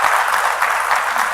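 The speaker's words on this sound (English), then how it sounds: "We can clap for our guests" A studio audience on a talk show claps for the guests in a short burst of steady, dense applause.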